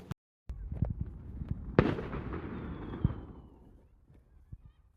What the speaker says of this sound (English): The way that some of the fireworks will echo through the valley, reverberates.